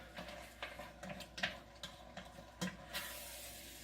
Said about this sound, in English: So now I'm going to just stir that in, stir it all together.